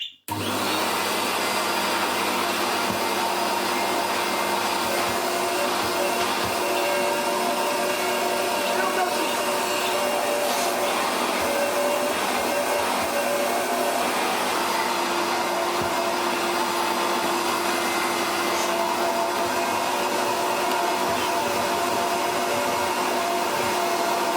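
A 1980s Goblin Solo vacuum cleaner, old and partly broken, runs continuously at a steady loud whine with strong suction, the motor tone holding unchanged throughout with a faint voice now and then.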